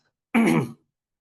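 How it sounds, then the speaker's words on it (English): One short, gruff throat clearing, close and alone, followed by silence. "Excuse me, I'm coughing."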